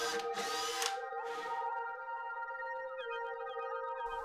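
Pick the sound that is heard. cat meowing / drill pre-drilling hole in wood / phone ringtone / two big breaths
drill pre-drilling hole in wood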